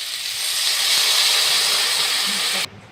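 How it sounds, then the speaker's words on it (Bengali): Pre-heated water goes into a hot turmeric curry with eggplant for a home-style hilsa fish dish, raising a loud, steady steamy hiss that stops suddenly just before the end. "এর ভিতরে আগে থেকে গরম করা জলটা এর ভিতরে দিয়ে দিচ্ছি"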